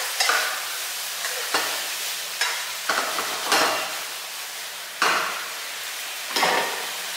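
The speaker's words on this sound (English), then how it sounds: "And now, last, I'm adding my spring onion. Stir it." Spring onion being stirred into squid adobo frying in a pan, with a steady sizzle under repeated scraping strokes of a utensil, about six distinct stirs spaced a second or so apart, close and moderately loud.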